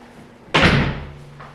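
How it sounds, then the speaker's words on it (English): A household door swung shut with a single firm thud and a short ringing decay, followed by a faint second knock; no talking during the closing. "Let's shut the door if you're gonna burp."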